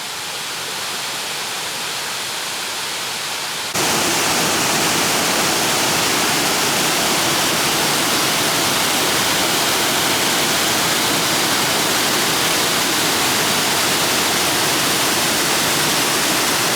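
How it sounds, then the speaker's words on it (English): A waterfall roars as a loud, steady, broadband rush that swells suddenly a few seconds in and then holds constant with no voices over it. "And here's the first view of the waterfall."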